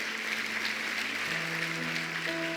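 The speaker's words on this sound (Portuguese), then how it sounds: "Vamos aplaudir a Jesus." Church congregation applauding during a Pentecostal service: a steady, moderately loud wash of clapping with sustained organ or keyboard tones underneath.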